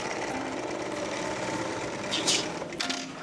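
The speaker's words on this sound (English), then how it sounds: "At first, I gave the sewing machine a try." A sewing machine runs steadily with a rapid mechanical whir, close by, with a few small clicks and rustles near the end.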